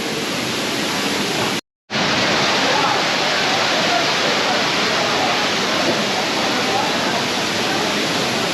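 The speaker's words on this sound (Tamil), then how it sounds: "தண்ணி ஃப்ளோ நல்லா தான் இருக்குது வேகமாக வருது" Five Falls waterfall at Courtallam in Tenkasi, a loud, dense, unbroken rush of falling water up close, briefly cut out for a moment near the start, then roaring steadily on.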